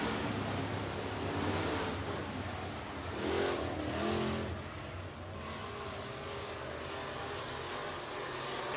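Race cars circle a dirt oval raceway in a steady, distant engine roar, swelling briefly as the pack passes, under broad crowd and track ambience.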